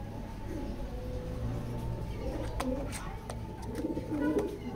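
Pigeons in a pigeon loft coo in soft repeated rolling calls, several birds overlapping at moderate distance over a low steady background hum.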